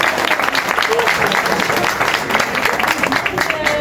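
Congregation applause fills a church service at a family festival, steady dense clapping from many hands with some voices mixed in throughout.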